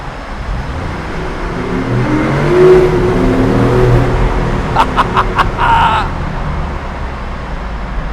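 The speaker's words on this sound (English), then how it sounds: "Let's hear the engine then." BMW i8 Roadster plug-in hybrid engine revving inside a tunnel, a droning rise and fall that builds to a louder swell midway, then short sharp bursts near the end, with echoing reverberation throughout.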